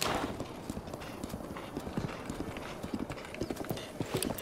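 Horse hooves clip-clop steadily on the road in Zelda: Breath of the Wild Master Mode, a quiet horse ridden at an even pace, with a brief whinny early on and no talk.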